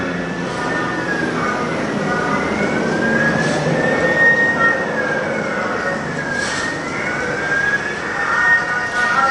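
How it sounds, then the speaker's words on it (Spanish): Sirens wail up and down in long rising and falling sweeps over a loud, rumbling background, fairly close and sustained throughout, in a film scene set in Tlatelolco. "Este chavo que corre bajo los aullidos de las sirenas"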